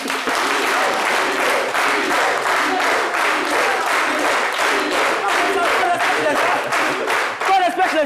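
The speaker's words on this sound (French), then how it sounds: "Docteur Philo, sous vos applaudissements." Studio audience applause on a French-language television show, rhythmic and loud clapping filling the room with crowd noise, ending abruptly.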